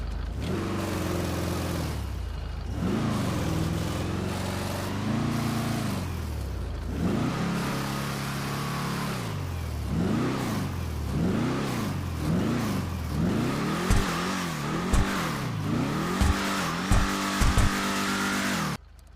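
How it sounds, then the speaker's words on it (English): A Declasse Tahoma Coupe muscle car in GTA, loud engine revving and rising and falling through gear changes as it drives, with rhythmic surges and a few sharp pops near the end, no talking. "let's go ahead and get this thing out on the street and give it a test drive"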